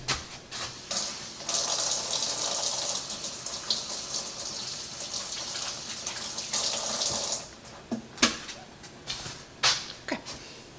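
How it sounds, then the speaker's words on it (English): Hands washed under a running kitchen tap after handling beef, water gushing steadily into the sink with splashes and a few sharper bursts toward the end. "let me wash my hands"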